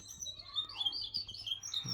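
A caged songbird sings high, bright chirps and twittering phrases in a quick, continuous run, close and fairly clear over a quiet low hum.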